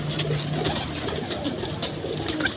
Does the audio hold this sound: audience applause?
no